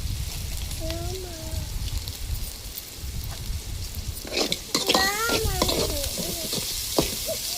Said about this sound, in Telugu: ఫస్ట్ ఉల్లిపాయ పచ్చిమిరపకాయలన్నీ వేగిపోయిన తర్వాత కొంచెం ఉప్పు వేసుకున్నాం.